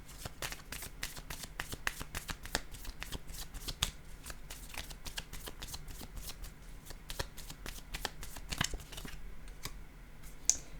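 Playing cards shuffled and handled during a tarot-style card reading, a long run of quick, crisp riffling flicks and snaps close up, continuous and rhythmic with no voice over it.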